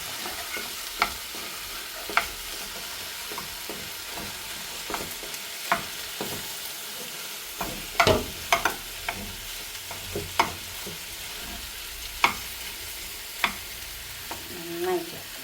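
A spoon stirs and presses crushed cooked beef in a hot pan for cutlets, giving a steady low sizzle broken by repeated sharp scraping clicks at irregular intervals, close and fairly quiet, with no talk.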